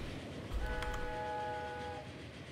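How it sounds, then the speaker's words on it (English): A train horn in the railway simulation game Transport Fever 2 sounds one sustained, steady, chord-like blast for about a second and a half over a low rumble of trains. "I just like to sound the horn as the other train went past."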